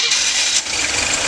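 A Chevrolet G20 van's engine cranks and catches, a loud close mechanical whir that dips briefly and then settles into a steady running rumble.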